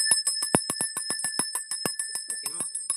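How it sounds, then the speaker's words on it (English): A small bell rings in a rapid series of around fifteen sharp, bright strikes, close and clear, some louder than others, with a sustained metallic ring hanging between hits. "Let's ring the bell."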